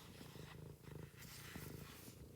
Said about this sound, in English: Can you hear my cat purring?